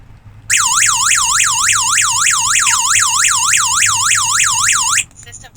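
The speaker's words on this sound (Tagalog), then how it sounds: "Kaya para pag binubuksan yung pinto, matitrigger yung alarm." A DIY home alarm siren set off by a door sensor wails loudly in a fast repeating up-and-down sweep for about four and a half seconds, then cuts off abruptly.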